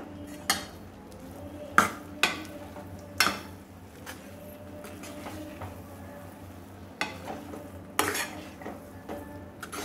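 Spoon stirring pineapple rava kesari in a pan, with sharp clinks of metal against the pan at irregular intervals over a faint steady sizzle, no voices.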